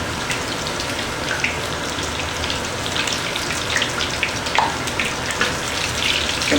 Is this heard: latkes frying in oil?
yes